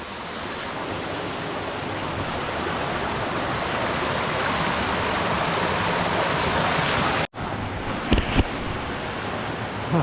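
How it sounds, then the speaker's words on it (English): A large waterfall high on a Lake District fell crag roars as a steady, loud broadband rush that fills the scene almost without a break, then briefly cuts out and returns with a few faint knocks. "Just a monster waterfall to climb up now."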